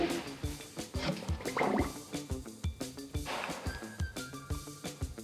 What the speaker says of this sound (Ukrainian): ґрунтовочний пістолет, обов'язково сито, заливаємо наш ґрунт